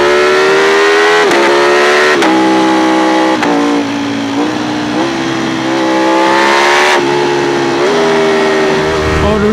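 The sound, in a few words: Ducati Panigale V4 Speciale motorcycle engine revving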